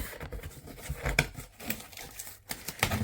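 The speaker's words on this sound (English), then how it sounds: "Break open the tape on this end." Close crackling, ripping and scratching of tape being torn open on a cardboard yarn package, irregular and busy, with small taps and rustles throughout.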